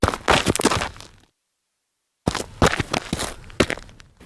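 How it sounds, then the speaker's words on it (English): Footsteps as a horror sound effect, a run of close, crunchy steps on a gritty surface that breaks off into a second of silence and then resumes with several more uneven steps. "the sound came. Soft, faint, but unmistakable. Footsteps."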